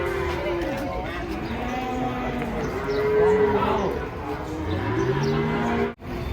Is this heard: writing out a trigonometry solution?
no